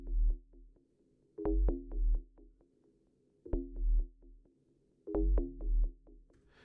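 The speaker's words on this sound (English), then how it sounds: "that pumping sound is the sidechain for the kick" Deep sub bass line ducking in a steady pumping rhythm each time a punchy kick drum hits, several kick-triggered dips and swells repeating in a looping electronic beat, with no voices.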